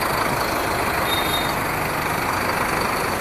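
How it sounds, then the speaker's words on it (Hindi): A Sonalika Tiger DI 65 4x4 tractor engine runs steadily as the tractor is moved, giving a continuous dense rumble at moderate distance with no talk over it. "इसलिए थोड़ा ट्रैक्टर हटाने जा रहे हैं।"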